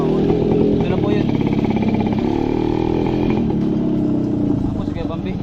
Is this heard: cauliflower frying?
no